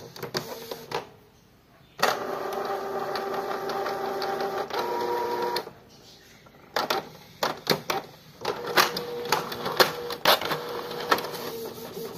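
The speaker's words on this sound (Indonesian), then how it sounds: "Nah, kita coba cetak lagi." A modified inkjet printer runs a print job on sublimation paper for T-shirt screen-printing transfers, its carriage motor whirring in long steady passes, then dropping off into a pause before resuming with clicks, ticks and shorter mechanical bursts.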